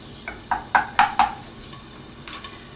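Spoon stirring sauce in a pan on low heat, a few distinct scraping clinks in a quick cluster followed by softer taps, with a faint simmering sizzle underneath and no talking.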